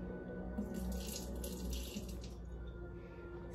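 Excess water poured out of a pot of chunky home cooking into a sink, a continuous close splashing stream that runs for a few seconds and tapers off slightly at the end.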